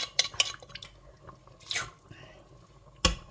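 Water rinses fingerroot paste from a kitchen mortar, with dripping and splashing alongside light clinks and clatter of kitchenware at close range.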